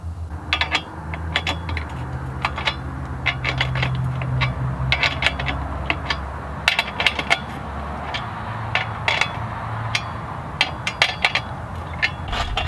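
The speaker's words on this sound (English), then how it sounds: "Now we can just tighten up both of the clamps on the bar" Clamps on the bar of a Granberg Alaskan MK-IV chainsaw mill being tightened: scattered sharp metallic clinks and ticks, some in quick clusters, over a low steady background hum.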